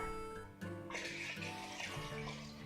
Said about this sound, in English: And here's about 6 cups of water.